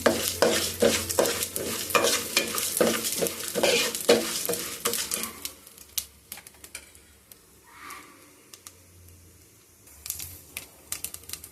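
Cumin and fenugreek seeds fry and get stirred in a pan, a busy scraping and sizzling for the first five seconds, then quieter intermittent stirring taps and soft sizzle, with no talking.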